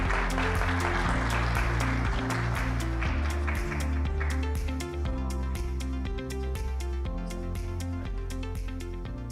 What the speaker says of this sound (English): Ladies and gentlemen, please welcome them with a big round of applause.